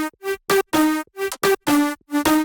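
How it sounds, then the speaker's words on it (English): Short, stabbing layered bass house synth chords in FL Studio, without effects, with a buzzy, harmonically rich tone, played in a choppy rhythmic pattern, dry and upfront, with no voices. "The main layers without effect sounds like this."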